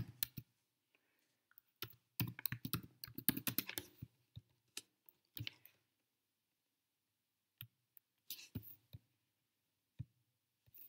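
Typing on a computer keyboard in quick clustered bursts of soft key clicks, followed by a few sparse isolated taps, close and quiet with no voices.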